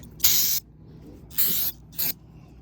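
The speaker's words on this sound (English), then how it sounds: "Gonna spray some on this side outlet over here, just because." An aerosol can sprays in three short hissing bursts onto a motorhome's side outlet, the first two longer and the last brief, close and fairly loud against a quiet background.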